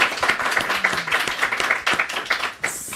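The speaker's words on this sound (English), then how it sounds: "An applause, please." An audience at a conference panel on ports bursts into applause, dense overlapping clapping that holds steady for a few seconds before tapering off.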